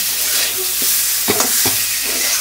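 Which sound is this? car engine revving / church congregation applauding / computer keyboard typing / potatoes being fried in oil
potatoes being fried in oil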